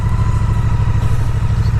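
A 2017 Triumph Street Cup motorcycle with a 900cc Bonneville twin engine runs steadily close by, a loud, even low rumble with no voices.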